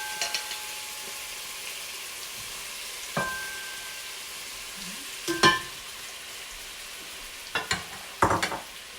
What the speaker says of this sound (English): I just pan fry this for a while to make the meat turns a little bit browner